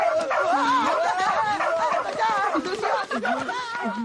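Small cartoon dog from the Doraemon animated movie yapping and whimpering in quick, high-pitched bursts, mixed with excited character voices throughout.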